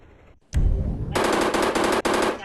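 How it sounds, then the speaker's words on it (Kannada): A machine gun fires in a video game: one sharp blast, then rapid sustained bursts of automatic fire with a short gap between volleys, loud and close with no talk. "ಮಷಿನ್ ಗನ್ನಿಂದ ಹೊರಬಿಟ್ಟು ನೋಡ್ತೀನಿ."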